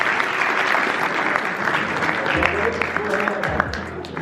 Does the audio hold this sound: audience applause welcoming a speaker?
yes